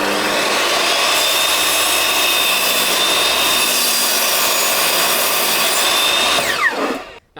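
Table saw ripping a thin strip off the edge of a wooden board, a loud steady whine and rasp running unbroken for about six seconds before the blade spins down at the end.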